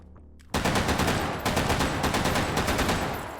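Rapid automatic gunfire from the VR shooter Hot Dogs, Horseshoes & Hand Grenades in Take & Hold mode, a dense, loud, continuous burst of shots that starts abruptly after a brief quiet moment and carries on steadily to the end.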